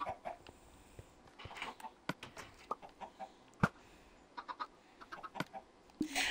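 Chickens in the Minecraft video game cluck and squawk in scattered short bursts, fairly faint and irregularly spaced against a quiet background.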